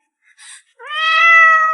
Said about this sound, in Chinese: 一只野猫罢了，鬼叫什么？